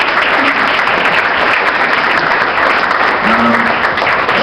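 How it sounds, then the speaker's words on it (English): Steady applause from an audience at a gathering, loud and sustained dense clapping throughout with no talk over it. "let's give Amy a big round of applause"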